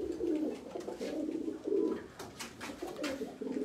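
Rampuri and Teddy breed pigeons coo in low, rolling bursts close at hand, the calls repeating almost continuously with slight pauses between them.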